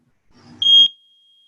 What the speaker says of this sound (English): And repeat until you hear the beep.